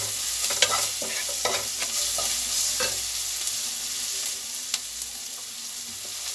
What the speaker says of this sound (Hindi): सॉटे करेंगे इसको।